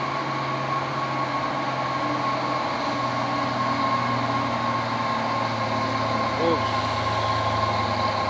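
A brown Hino Puso 190 PS truck, smoking heavily, labours uphill with a steady, loud diesel drone and constant low rumble, a faint tonal whine riding above it throughout.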